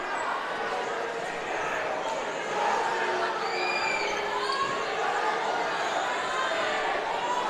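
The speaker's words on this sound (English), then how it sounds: "And the North crowd wants a foul on Orozco." Basketball crowd in a high school gym between North Medford and South Medford, a steady roar of shouting and chatter that swells into louder yelling for a foul, with sneaker squeaks and scattered voices throughout.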